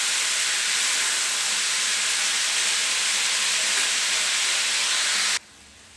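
Peas fry in a hot pan with a loud, steady, close hiss and sizzle that runs unbroken for about five seconds, then cuts off abruptly.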